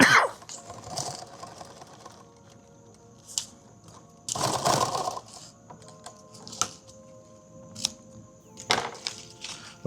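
A sewing machine stitches a six-magazine active shooter bag in short mechanical bursts separated by pauses, close and clear, with faint handling noises in between.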